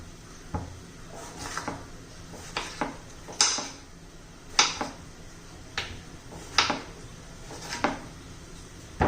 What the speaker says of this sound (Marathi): सर्व टोमॅटो आता चिरून झाले